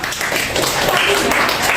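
Students in an economics classroom clap for a group's presentation, a steady patter of hands filling the room for the whole stretch at moderate loudness, with a faint voice underneath.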